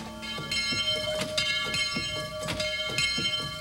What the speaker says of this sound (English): we suddenly heard a distant dinner bell ring